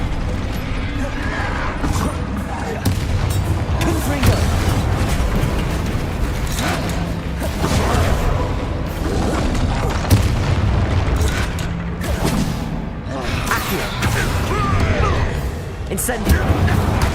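Rumbling spell blasts from Hogwarts Legacy's Incendio fire spell, played on PC, roll on continuously in dense, loud booming bursts mixed with mechanical clanks and creaks, with a voice talking over the din.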